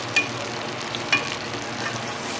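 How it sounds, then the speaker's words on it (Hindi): Finely chopped onions frying in a pan, a steady close sizzle with two brief sharp clinks of a utensil against the pan. "और प्याज को हमने ज़्यादा फ्राई नहीं करना, बस 1 मिनट हम इनको फ्राई करेंगे"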